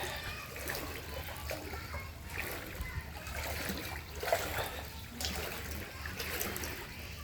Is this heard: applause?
no